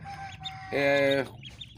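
Chickens and chicks cluck and peep close by in a small poultry setup with an egg incubator, one short louder harmonic squawk rising in the middle between softer calls.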